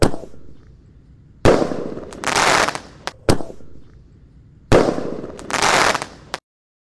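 A Basoka Roman Candle 1.75 inch firework going off outdoors during Ramadan, loud sharp launch bangs followed by bursts of crackling, repeating in two similar volleys before cutting to silence.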